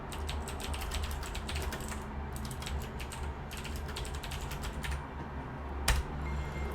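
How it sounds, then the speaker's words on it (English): Computer keyboard being typed on in quick bursts of light clicking keystrokes with brief pauses, close by, over a low steady background hum. "I'm just typing up all the loot that you're getting."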